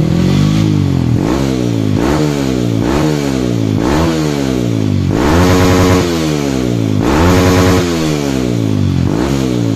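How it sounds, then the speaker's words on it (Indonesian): A Honda CRF motorcycle engine with a 66 mm piston revs hard over and over on a dyno, each rise in pitch climbing and dropping in a steady loud rhythm, close up with no talking. "sound motornya bagus banget"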